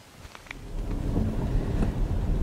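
Heavy rain pours at a hillside campsite overlooking Kofu, with low rolling thunder building underneath; a dense, steady downpour that grows louder, a few sharp drips standing out early on.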